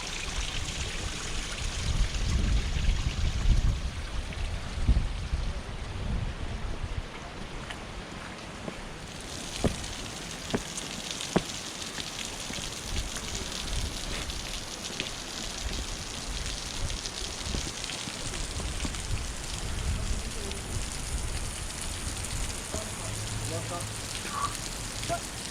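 Water dripping and trickling in Zion National Park, a constant outdoor patter like rain on rock with scattered distinct drips, continuous and moderately loud, with people talking briefly over it.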